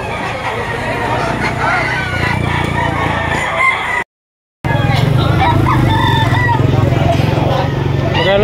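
Roosters crowing amid a busy chicken market behind SM in Lipa City, Batangas, steady and loud over crowd chatter and vendors talking, with a brief silent gap midway.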